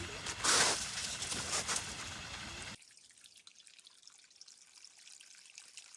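Water trickles and drips in a small spring-fed stream, bright and close for a few seconds before it drops abruptly to a faint background.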